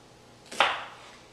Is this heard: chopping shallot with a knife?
yes